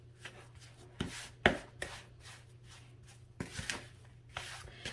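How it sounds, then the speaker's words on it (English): Butterscotch chocolate chip cookie dough with eggs and flour is stirred by hand in a bowl, giving close, irregular scrapes and soft thumps against the bowl with short pauses between strokes. "No mixer required. Just mix it by hand."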